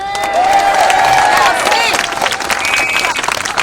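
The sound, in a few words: crowd clapping and cheering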